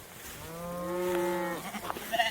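Cattle on a farm moo once in a long, drawn-out call, loud and close, followed by brief faint rustling.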